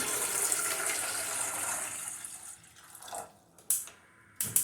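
Water runs steadily into a pan for a couple of seconds, then stops, followed by a few brief clinks and knocks of kitchenware.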